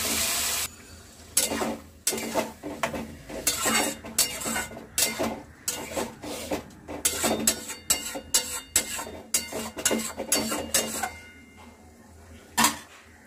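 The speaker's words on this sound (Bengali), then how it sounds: "এবার আমি পোস্ত আর সর্ষে বাটা ওটা আমি দিয়ে দিলাম, দিয়ে এটা আমি ভালো করে নাড়িয়ে নেব।" Poppy seed and mustard paste stirred in a pan for prawn paturi, the spoon scraping and clinking in a steady run of close, sharp strokes over a low sizzle, with no talking.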